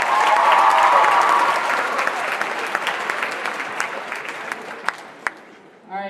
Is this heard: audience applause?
yes